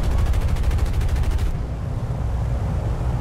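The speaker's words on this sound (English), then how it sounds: "I'm gonna just start shooting at him." Aircraft guns fire in the War Thunder flight combat game, a loud, dense burst of rapid rounds for about a second and a half before trailing into a rumbling roar.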